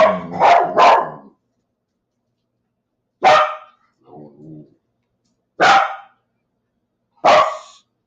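A dog barks sharply several times close by, a quick burst of three followed by single barks with quiet gaps and a soft whimper between.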